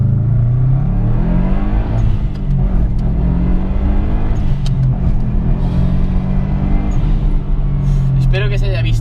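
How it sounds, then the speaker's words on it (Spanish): A Subaru WRX STI accelerates hard from first gear while already moving, its engine giving a loud, continuous rumbling roar that rises in pitch throughout, heard from close by with no speech. "hice una aceleración en movimiento desde primera para que vierais cómo se levanta el coche"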